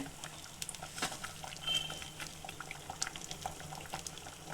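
Avare beans boiling in a pot of water on a stove, a soft steady bubbling and faint patter with occasional louder pops, close and fairly quiet, with no talking.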